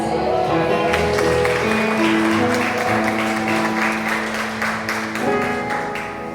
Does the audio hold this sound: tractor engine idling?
no